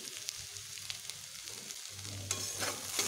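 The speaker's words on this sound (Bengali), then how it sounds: "এবার এগুলোকে মিশিয়ে আর একটু ভালোভাবে ভেজে নিচ্ছি" Bitter gourd frying in a pan with turmeric, cumin and crushed garlic, a steady sizzle under scattered scraping stirs that grows louder and denser toward the end.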